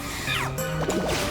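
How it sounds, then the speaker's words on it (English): Mud Bomb attack in the Pokemon Mystery Dungeon Rescue Team DX game: a short burst of sloppy, squishing splats with sliding, warbling game tones, two quick hits close together over steady background music. "Ooh, a double mud bomb."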